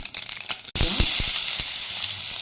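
A sudden loud sizzle as mustard seeds, cumin, dried chillies and asafoetida drop into hot oil, with sharp crackling pops continuing over a steady frying hiss.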